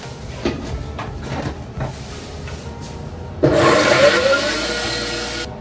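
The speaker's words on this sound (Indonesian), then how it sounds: "Sekarang aku ini blender dulu cabenya yang halus banget" A kitchen blender grinds chili peppers very fine, starting abruptly after a few light clatters and knocks, then running loud and steady for about two seconds before cutting off.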